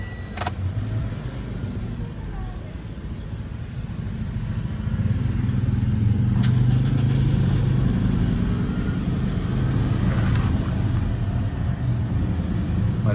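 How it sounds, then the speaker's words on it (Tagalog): A third-generation Toyota Vios engine idles roughly with a misfire, a steady close rumble holding throughout and growing slightly louder partway through, with no talking over it. "Magaspang ang idling."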